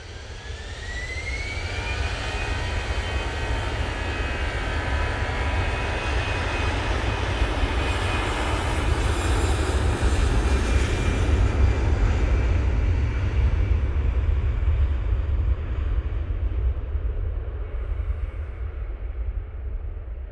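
An airliner takes off from snowy Manchester Airport bound for Zurich, its jet engines a loud, steady roar that builds and holds for the full stretch, with a rising whine near the start and no talk over it.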